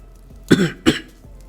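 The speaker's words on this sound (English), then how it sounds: "I need to clear my throat" A person clears their throat twice in quick, close bursts, loud and near, with a quiet pause before and after.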